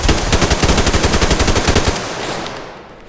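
Rapid automatic gunfire from the video game Survarium rattles in a steady burst, loud and close, then fades into a lingering echo and rumble.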